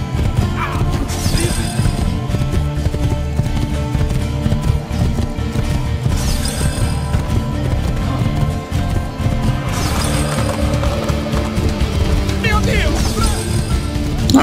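A horse in Assassin's Creed II gallops with steady rapid hoofbeats and neighs now and then, loud and close, with game sounds mixed in.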